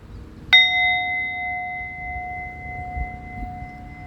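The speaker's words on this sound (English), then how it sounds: "Let's ring this bell again." A single bell struck once during an indoor spiritual gathering, giving a bright clang that rings on with a long sustained tone over faint room noise.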